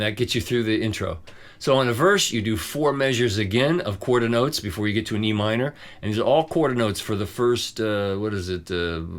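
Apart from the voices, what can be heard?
No everyday noises stand out.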